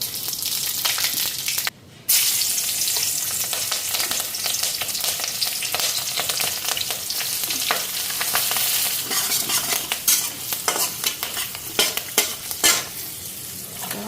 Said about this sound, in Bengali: তো এদিকে পাঁচফোড়ন দিয়ে দিই।